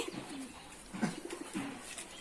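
Pigeons coo softly from where they sit sunning themselves, a few low murmuring calls rising and fading over steady outdoor background noise.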